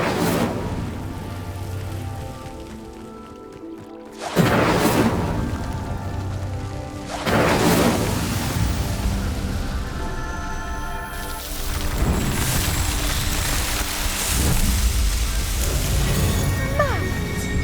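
Incendio fire spell igniting pyres in Hogwarts Legacy: several loud whooshing bursts and booms at intervals over a dense game music and ambience bed, with a voice speaking in between.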